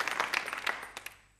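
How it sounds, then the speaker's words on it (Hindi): Applause from an audience at a girls' college quiz show breaks out in a brief burst of many hands clapping, then quickly thins and fades away. "तालियां तो ज़बरदस्त तरीके से बजनी चाहिए"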